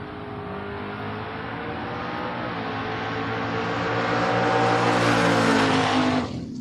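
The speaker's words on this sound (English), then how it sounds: "Big old wheelie, as always, gets the win over Duncombe" A drag racing door car launches down the track with a loud, sustained engine roar that climbs in pitch as it accelerates, then cuts off sharply near the end.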